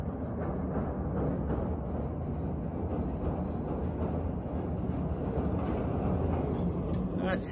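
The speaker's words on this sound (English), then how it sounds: "here comes the train" Train rumbling past outside a leased Sheffield apartment, a continuous low steady roar heard through an open window, with some faint voices.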